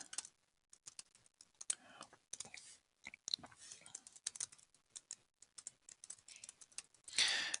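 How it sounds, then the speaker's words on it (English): Typing on a computer keyboard while filling in Google Forms fields, with irregular bursts of close, crisp key clicks and brief pauses, ending in a louder flurry of keystrokes; no one speaks. "I'm using the tab button to advance between fields here"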